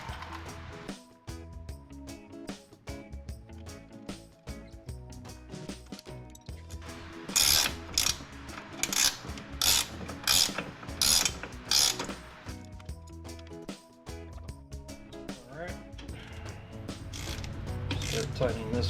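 Ratchet wrench tightening the axle U-joint bolts on an FL350R, loud rapid clicking in bursts of pawl ratcheting with gear-like mechanical chatter, close by, with a voice heard faintly at times.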